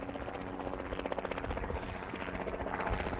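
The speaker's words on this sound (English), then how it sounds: "We got a helicopter coming here." A helicopter passes overhead outdoors, its rotor chop a fast steady pulsing flutter that swells slightly louder toward the end.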